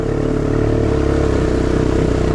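A Honda Recon 250 ATV power slides in third gear, its engine droning loud and close with a steady buzzing note and a gritty clatter of tyres spinning on loose ground.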